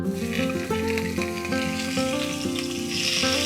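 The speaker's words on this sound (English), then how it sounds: "I'll keep sauteing the onion till the onions are brown in color" White onions sauté in reused oil in a cast iron pan, giving a continuous, even sizzle that runs the whole way under steady background music.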